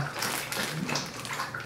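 Pets lap and slurp at water indoors, a soft continuous wet splashing with small sloshes, fairly close and steady, without talk over it.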